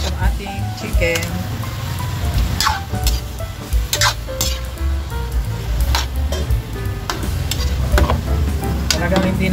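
Chicken pieces frying in a pan with tomatoes and pepper, a steady loud sizzle with crackles and utensil clicks throughout.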